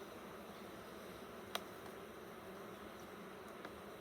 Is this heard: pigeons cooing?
no